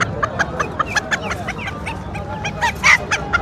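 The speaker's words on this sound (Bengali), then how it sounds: "এই হচ্ছে শেরেমার মোরগ।" A Sherema breed rooster among other poultry at the Tongi chicken market: repeated short, harsh honking calls sound close over a constant background of crowd and market noise.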